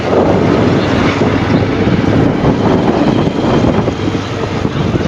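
Cold wind blows steadily across a local village market in Thailand. It makes a loud, continuous rushing roar that buffets the microphone throughout.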